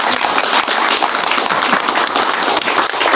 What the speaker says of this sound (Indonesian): Nusantara layak untuk kita berikan tepuk tangan yang meriah